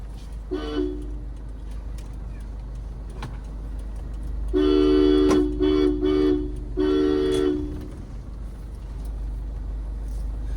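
A car horn sounds in a narrow residential lane as the driver clears children from the way: one short toot, then a long blast broken into several pulses, loud and close over steady engine hum.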